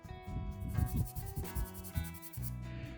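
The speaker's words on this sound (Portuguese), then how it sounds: "E eu também dou uma lixada com a lixa esponja porque ela é muito boa para essas situações." Sponge sandpaper rubs over dried glue on a resin car bodykit, making quick, uneven scratchy strokes that are close and fairly soft, with short gaps between the passes.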